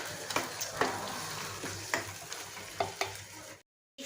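A spoon stirs food in a pan with a little water added, giving repeated scraping strokes over a steady wet sizzle, close and fairly loud, ending abruptly in silence.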